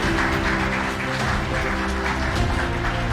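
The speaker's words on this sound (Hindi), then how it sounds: "वेरी गुड, एक बार ताली हो जाए इसके लिए" A classroom of students claps for a fellow student, a steady, dense wash of applause that runs evenly throughout at close range.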